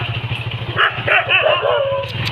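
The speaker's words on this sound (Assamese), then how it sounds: "কুকুৰবিলাক যে গালি পাৰি আছে ন" Dogs bark near a paddy field in a few sharp, close bursts over a steady low engine hum.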